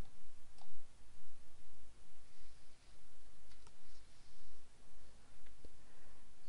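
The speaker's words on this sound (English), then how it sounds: "So now I'm going to click here on Skype Setup, and I'll click OK for that, and just going to click on Run," A few sparse computer mouse clicks during a Skype setup, small sharp ticks scattered irregularly over faint room noise and low hum.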